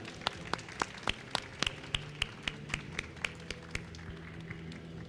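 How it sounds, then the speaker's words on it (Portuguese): A handful of people clap in a slow, steady rhythm at a technical talk on a conference stage, about twenty sharp, evenly spaced claps, faint and without voices. "eu queria rapidamente aqui uma salva de palmas para essa galera aqui"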